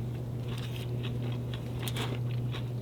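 Someone bites into crunchy fried squid karaage. A steady, dense crackle of crisp batter is heard up close, with sharper crunch bursts from chewing, and no talk.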